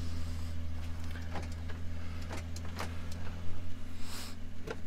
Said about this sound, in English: Let me unlock it.